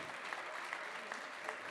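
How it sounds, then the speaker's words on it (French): A theatre audience gives brief applause at a student stage performance, a short, steady patter of clapping heard at a moderate distance. "Allez, on peut les applaudir."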